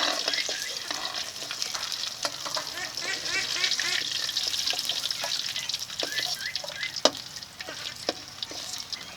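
Bata fish fried crisp in hot oil in a home kitchen pan, with a steady, close sizzle and repeated scraping and clicking as a spatula stirs and turns the pieces. No talking.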